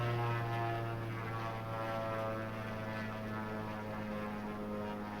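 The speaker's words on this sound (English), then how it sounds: "let you hear the noise of the engine before I turn it off" Steady droning piston engine of a light aircraft (N3318Q), engine #2 idling during a run-up with the cowl check done, even and continuous with a low humming tone and no voices.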